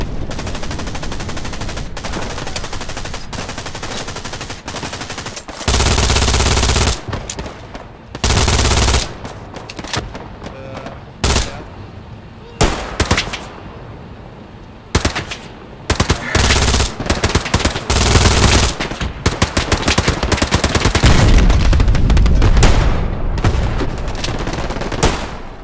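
Heavy MG42 machine gun fired from a bunker in Hell Let Loose: loud, close bursts of rapid automatic fire, some long and some short, separated by brief pauses, with distant gunfire between them.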